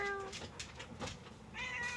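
A pet cat meows indoors, with one short mew and then a longer drawn-out cry, both clear and fairly close.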